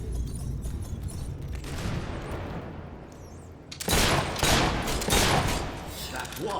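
Gunfire from the Fable III video game: a loud burst of rapid shots erupts midway after quieter ambient game sound, with several sharp reports in quick succession.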